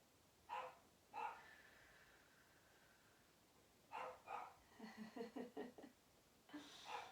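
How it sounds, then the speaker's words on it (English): Dog barks indoors, faint and somewhat distant: a few separate barks, then a quicker burst of several close together, then one more, with quiet gaps between. "I don't know if you can hear my dog barking."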